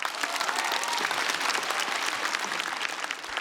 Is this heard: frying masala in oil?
no